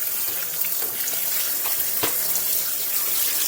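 Tap water runs steadily over salted vegetables being rinsed for mustard pickles in a sink, a constant close hiss and splash with a few brief clinks, no speech.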